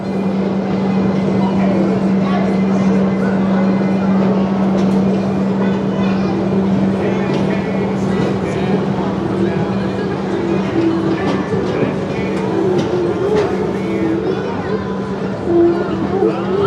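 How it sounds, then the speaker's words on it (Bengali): A train rumbles loudly and steadily as it pulls away from a station in Pennsylvania, USA, with a constant droning hum and faint background voices inside the carriage. "ট্রেন চলা শুরু করেছে"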